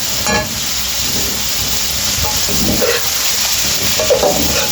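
Boiled potatoes sizzle in a hot pan with onions and spiced chicken masala, a loud steady frying hiss with brief bursts of crackle as they are stirred, and no voices.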